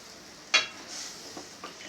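Red amaranth greens cooking in a pan with ginger, garlic, salt, turmeric, chili and coriander powder: a soft sizzle with one sharp spoon scrape against the pan, then quieter stirring, close and low in volume.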